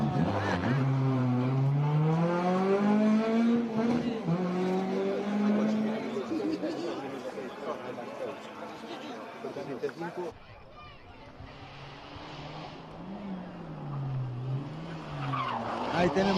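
A Suzuki rally car runs a rally stage, its engine revving and sweeping up and down through gear changes with tire skids, loud and then quieter after a cut, under steady commentary talk.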